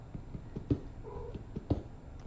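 A pet cat nearby makes soft, low purring and chirping sounds with two brief louder bursts, quiet and intermittent across a short stretch.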